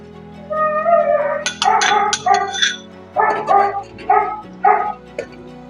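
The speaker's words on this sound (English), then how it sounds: "You guys can hear a dog outside." A dog barks outside in a quick series of sharp, yelping barks and short yips, fairly close, coming in bursts with brief pauses between them.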